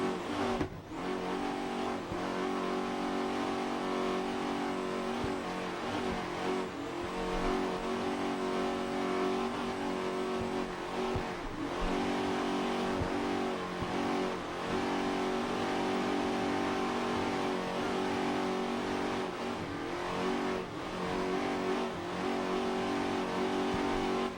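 Class 6 offshore racing boat powered by Crockett Marine Engines roars at speed during a 2007 powerboat race at Ocean City, Maryland; a loud, sustained engine drone with slight surges in pitch, continuous and close.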